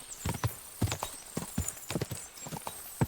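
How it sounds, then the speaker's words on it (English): A horse's hooves clopping at speed in the video game Kingdom Come: Deliverance II, a rhythmic run of close, crisp hoofbeats in uneven groups, with the horse briefly whinnying. "let's get on this horse before we get attacked"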